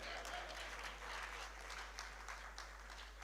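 An audience at the SIPEN 2023 opening ceremony applauds the minister with sustained, dense clapping that stays fairly even throughout, heard distant and faint.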